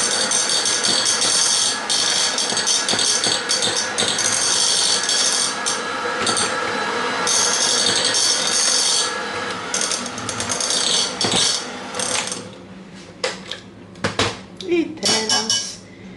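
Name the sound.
mixing whipped egg whites with kisiel jelly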